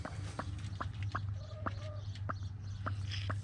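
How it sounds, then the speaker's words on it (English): A broody hen sitting on eggs in a homemade bucket nest box gives soft, short clucks in a steady repeated rhythm. The calls are faint and close, over a constant low hum. "I got this broody hen"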